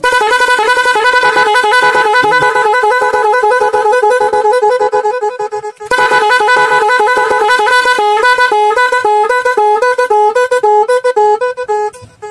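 A 12-tone magic horn fitted to a vehicle blares a loud, continuous sequence of stepping musical tones, restarting with a brief dip midway and speeding up toward the end.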